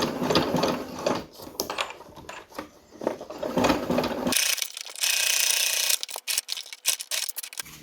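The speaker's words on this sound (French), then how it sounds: "Donc, j'ai refermé à la machine." A sewing machine stitches shut the opening of a flat fabric cap with an elastic edge, its rapid mechanical clatter running in bursts, then a steady higher whir, close and fairly loud with no talk.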